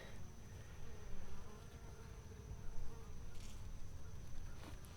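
A steady, faint hum of many honey bees buzzing at a woodland apiary outyard, continuous and low, with occasional closer passes rising briefly above the drone.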